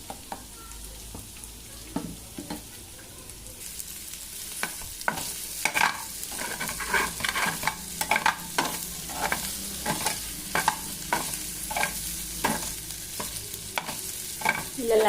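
A spatula stirs and scrapes through sizzling palak paneer ingredients frying to light golden in a pan, with steady oily crackle and irregular scraping strokes growing busier over time, close and alone without speech.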